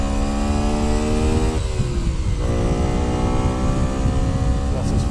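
A Bullit Hero 50cc scooter engine held at full throttle, a loud continuous buzzing whine with rising harmonics that dips briefly mid-clip before climbing again, close and steady throughout.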